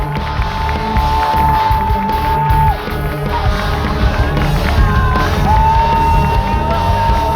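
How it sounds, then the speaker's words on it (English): A vocal crowd cheers, whoops and yells steadily at the Stanford versus Washington women's ultimate frisbee college final, with whistles cutting through the sustained roar. "Vocal crowd very appreciative of the action and the commitment made by both teams"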